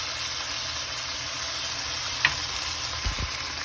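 Sardines hit a hot pan of sautéed garlic for a Filipino sardine and misua dish, giving a steady, soft sizzling hiss with a couple of faint clinks near the end and no talking.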